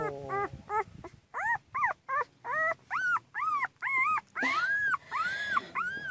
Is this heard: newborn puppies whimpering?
yes